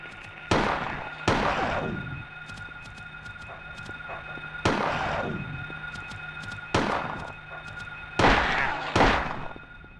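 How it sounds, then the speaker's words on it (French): Six sharp gunshots in the video game Silent Hill (1999) crack out at uneven intervals, each with a long echoing tail, over a steady electronic hum and faint ticking. "J'ai entendu des coups de feu là."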